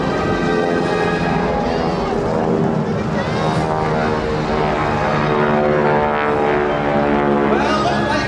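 Solo pilots' jet aircraft at the Bethpage Air Show 2021 flying overhead, giving a loud, continuous roar with shifting whine and swelling passes, while an announcer talks over it.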